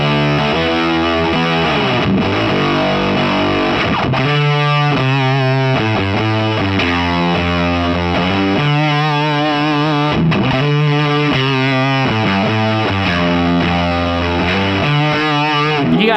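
Thick, heavily fuzzed electric guitar plays chunky riffs and sustained chords, loud and buzzing, with brief pauses between phrases.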